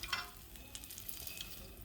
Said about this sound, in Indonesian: Kita balik dan kita goreng sampai warnanya kuning keemasan.